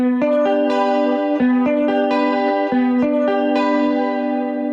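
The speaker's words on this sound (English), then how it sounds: "And your guitar should sound like this." A clean electric guitar plays a repeated picked sungura pattern of notes, ringing with chorus and echo, steady and close with no voices.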